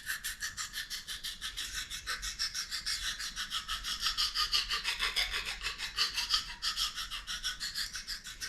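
A knife blade is sharpened on a 400 grit oil stone with quick, evenly paced back-and-forth strokes, a close, bright scraping rasp repeating steadily with no talking.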